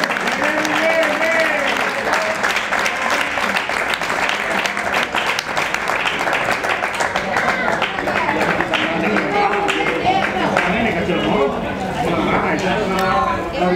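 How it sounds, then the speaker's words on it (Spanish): Spectators at an amateur football match applaud as a player is substituted, scattered clapping carrying on under close, continuous commentary from a voice. "Bueno, pues aplausos para Edu Carriel."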